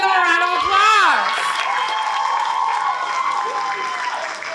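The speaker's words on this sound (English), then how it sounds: "Let's give them a round of applause." Applause and cheering from a school event audience greet kindergarten students, a steady wash of clapping with a few children's shouts and whoops rising at the start, loud and continuous throughout.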